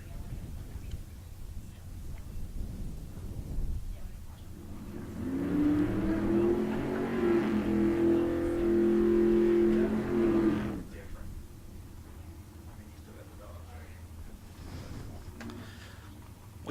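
Drag racing car doing a burnout at Tucson Dragway, a loud engine roar swelling for about five seconds midway, set against quieter track ambience and a distant announcer's voice.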